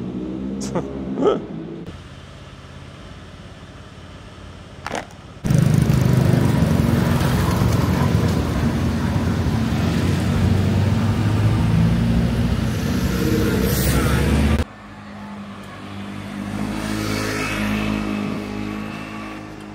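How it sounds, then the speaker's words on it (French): A powerful motorcycle engine runs loudly and steadily at close range for several seconds, a deep continuous rumble that cuts off abruptly, framed by quieter passages with brief talking. "vous allez voir la moto, elle est incroyable"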